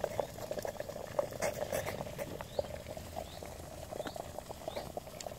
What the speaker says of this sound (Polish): woda już się gotuje.